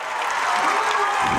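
A crowd at a girls basketball game erupts in cheers and applause after a made basket, a dense, sustained roar of clapping and shouting from the stands.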